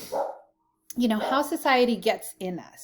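Several dogs barking indoors, short bursts of barks and a yip heard alongside someone talking, the dogs fairly close and partly masked by the voice.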